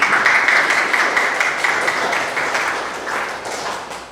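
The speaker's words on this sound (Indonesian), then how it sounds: "Tepuk tangan untuk Marisa" Classmates in a classroom clap for a student named Marisa, a brief burst of many hands that starts strong and gradually thins and fades over about four seconds.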